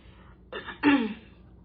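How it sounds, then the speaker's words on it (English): A hoarse person clears their throat twice in quick succession, close and fairly loud, against a quiet background. "if I keep clearing my throat in this video"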